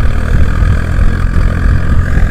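A Swaraj 744 FE tractor works a cultivator in the field, its diesel engine giving a loud, steady, close rumble under load with no drop in revs.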